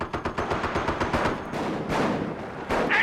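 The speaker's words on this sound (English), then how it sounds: "when you've got both the 75 and the 37 firing on a lighter target like a Panzer III" Tank guns firing in Company of Heroes, a 37mm and a 75mm, shown as a fast run of sharp, close cracks in the first half, then a few heavier, spaced blasts, with no talk.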